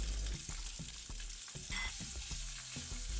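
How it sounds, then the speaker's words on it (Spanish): Prawns sautéing with garlic cloves in a splash of oil in a frying pan give a steady, close sizzle with scattered stir-like knocks and pops, no voices. "Las salteamos, unos 25. O 30 segundos"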